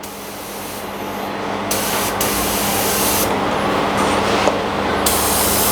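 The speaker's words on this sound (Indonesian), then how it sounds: "Kita semprot secara merata seperti ini" A spray gun held about 15–20 cm from a carbon bicycle rim hisses paint on in a steady, loud continuous spray that swells slightly over several seconds.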